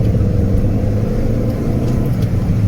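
In-car engine drone from a Mini Cooper S during a circuit race, a loud, steady low rumble throughout with no talk.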